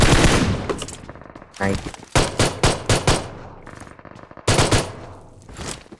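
An M4 rifle fires in a competitive shooter video game, a long rapid burst followed by several short bursts and another dense stretch of automatic gunfire, close and loud, with a voice speaking briefly.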